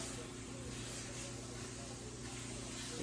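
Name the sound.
pork breakfast sausage sizzling in cast iron pan on wood stove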